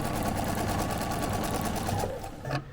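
A sewing machine runs in one rapid, continuous burst, stitching down the center of quilting tape after a short backstitch, then stops abruptly.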